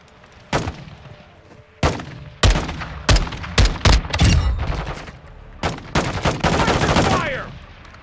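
Gunfire in the video game Call of Duty MWII DMZ: loud, close single shots and rapid automatic bursts in irregular volleys, with sustained firing toward the end.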